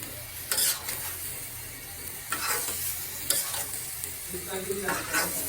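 Dried tengra fish sizzles in a pan while being stirred, with several bursts of scraping and clattering against the pan over a steady, close frying hiss.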